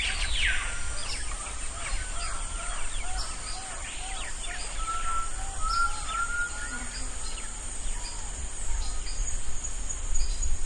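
Birds sing and call in a tropical jungle, several species overlapping with repeated whistled and chirping phrases, over a steady high insect drone and a dense background hum that continues throughout.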